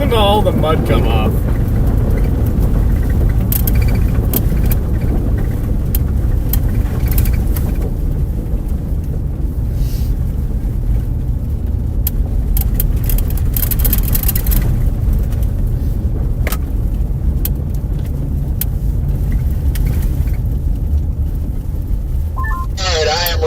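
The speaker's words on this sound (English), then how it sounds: "Listen to all the mud come off." A truck driving on a muddy road during a storm chase in Iowa, with a steady, loud rumbling roar and broadband spray throughout, likely including mud flinging off the tires and body. The noise runs continuously and close with no clear talk.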